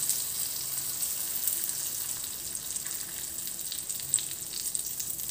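A fish pizza batter frying in a large pan on the stovetop, producing a continuous soft hiss and crackle of hot oil with a small pop near the end.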